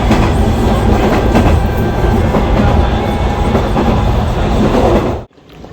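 Train ride toward Sawara station in Chiba, a loud continuous rumble of wheels and carriage with faint clickety-clack, cutting off abruptly near the end.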